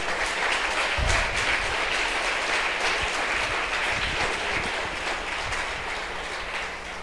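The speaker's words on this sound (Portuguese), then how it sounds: "Você pode aplaudir o Senhor?" A church congregation applauds during a sermon, dense sustained clapping that fills the room at steady loudness and tapers slightly toward the end.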